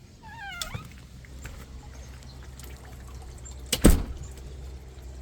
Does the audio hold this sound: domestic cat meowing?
yes